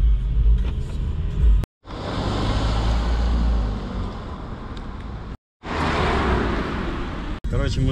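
A Mercedes CLA drives along a road with a steady engine hum and tyre rumble inside the cabin, broken by brief cuts, while people talk over it.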